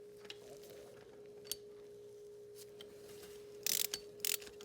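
A hand wrench tightens a bracket on a 1994 Mercedes-Benz C280 engine. Faint metallic clicks and a couple of short bursts of ratcheting sound over a quiet hum, close by.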